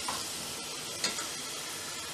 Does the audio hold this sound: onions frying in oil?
yes